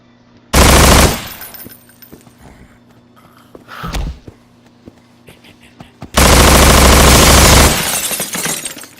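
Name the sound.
gunfire from a gun in the video game Estranged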